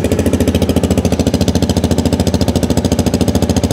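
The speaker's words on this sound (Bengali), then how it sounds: "এই বাইকটির সাউন্ডটি শোনানো যাক আপনাদেরকে।" A CFMoto CLC 250 motorcycle engine idles close by with a loud, steady, thumping beat that holds an even rhythm throughout, with no voices.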